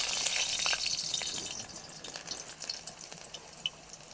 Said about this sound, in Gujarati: વઘારમાં નાખશું આપણે લસણ